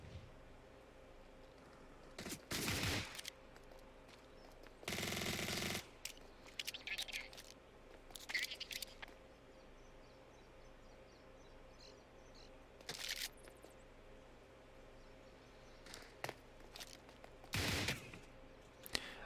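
Gunfire from an SMG and a Desert Eagle in CS:GO comes as scattered short bursts and single sharp shots, separated by quiet stretches of faint game ambience, with no talking.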